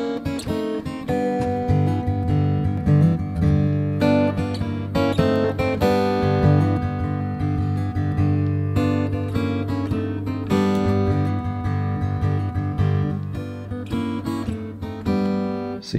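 Guitar plays a riff, alternating thumb-picked bass notes with picking on the high strings, open strings left ringing, in a steady bouncing rhythm that stays loud and close throughout with no talking.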